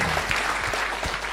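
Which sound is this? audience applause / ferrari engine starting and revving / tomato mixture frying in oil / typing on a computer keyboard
audience applause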